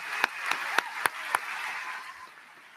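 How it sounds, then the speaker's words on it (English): A handful of individual claps at a Fairport high school graduation ceremony, five distinct sharp hits in a quick even rhythm, then fading into quiet room tone. "Seriously, let's give her another round of applause."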